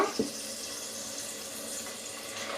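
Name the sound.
cold water poured over beans in a pot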